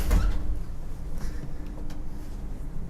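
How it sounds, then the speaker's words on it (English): Door opening inside a cathedral, a short soft scrape and thud near the start, followed by quiet room tone. "And another door."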